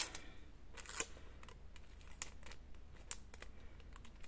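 Quiet, close snips of scissors cutting through tape, several sharp crisp clicks spaced irregularly over faint crinkling and handling noise.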